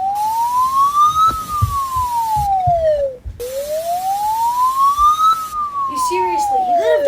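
A police siren within an Emergency Alert System alarm: a loud, close wail rising and falling in two long sweeps, with a brief break in the middle.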